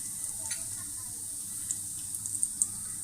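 Cumin seeds and ground coriander fry in a pan with a faint, steady, high-pitched sizzle. A few light crackles and pops rise above it toward the end.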